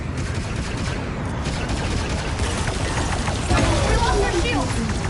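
Rapid turret fire from a ship shooting at enemy fighters in Star Wars Outlaws, a dense continuous barrage of blasts and explosions, loud and steady under talking voices.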